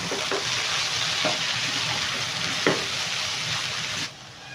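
Sweet potato and cabbage sizzle steadily in a frying pan while being stirred and mixed, the close hiss broken by a few sharp scraping clicks and a louder clatter near the end.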